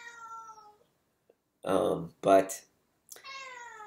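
A domestic cat meows several times, drawn-out tonal cries at the start and end, with a voice talking in between.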